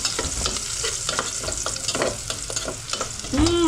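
Garlic sizzling and being stirred in a pan while cooking a Filipino egg dish (suam na itlog). A steady, close frying hiss with stirring scrapes runs throughout, and a brief tonal sound rises near the end.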